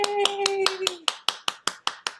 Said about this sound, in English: If you'd like to unmute yourself to give him some applause